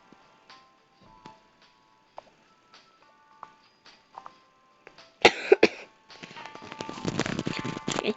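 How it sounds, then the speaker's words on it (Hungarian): One person coughs a few times, sharp and close, in a fairly quiet room. Sparse soft clicking and ticking comes before the coughs, and a rough, noisy stretch follows them. "Egy picit köhögök."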